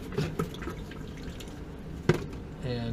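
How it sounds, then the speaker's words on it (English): Water drips from a leaking brass-bound drain valve on a Rheem 30-gallon water heater, a few soft, sparse drops landing close by against a faint, steady background hiss. "now we got a leak going on here, and I'm pretty sure it's the drain valve"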